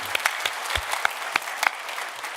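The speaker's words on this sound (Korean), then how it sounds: "우리 시온 찬양대를 위해서도 박수하십시다." A church congregation at a Sunday worship service claps for the choir, a short burst of close, scattered hand claps with no voices over it.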